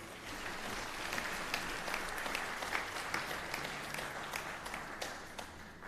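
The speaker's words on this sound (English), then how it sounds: "Let us give them a big round of applause, please." Steady applause from a graduation ceremony crowd, many hands clapping continuously at a moderate, distant level for several seconds.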